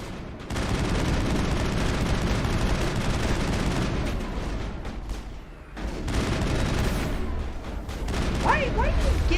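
Assault rifle gunfire in the video game Mass Effect sounds as dense, sustained rapid bursts mixed with explosions and battle noise, dipping briefly before resuming, with talk heard faintly underneath.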